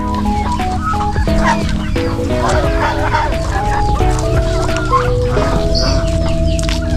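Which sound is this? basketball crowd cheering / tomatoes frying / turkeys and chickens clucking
turkeys and chickens clucking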